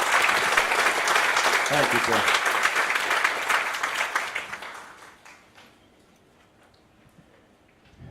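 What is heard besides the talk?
audience applause at annual meeting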